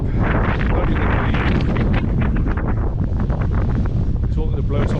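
Strong wind buffets the microphone near the steep top of Cribyn in the Brecon Beacons, a constant roar, loud and close, with speech partly buried beneath the gusts.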